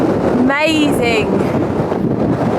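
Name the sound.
strong wind in the Scottish Highlands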